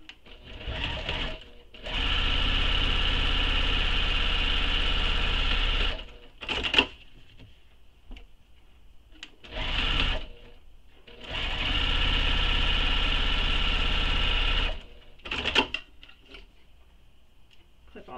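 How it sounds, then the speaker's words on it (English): A sewing machine top-stitches the long edges of a crossbody bag in two long, steady runs, each preceded and followed by short bursts and ticking, close and loud with quiet gaps between. "And then we're going to top stitch these long edges."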